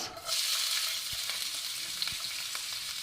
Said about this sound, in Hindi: सबसे पहले इसमें चला जाएगा जी हमारा प्याज